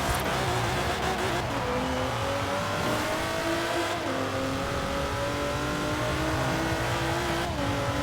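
Upgraded racing car engines in the video game Forza Horizon 4 roar continuously, revving and rising in pitch through gear changes, loud and close with a brief tire squeal, and no talking.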